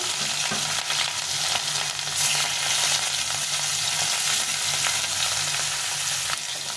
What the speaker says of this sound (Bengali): প্রথমে আমি মাছটা ভেজে নিলাম।